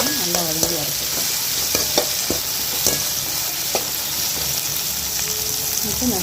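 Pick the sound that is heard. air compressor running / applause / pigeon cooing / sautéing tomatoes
sautéing tomatoes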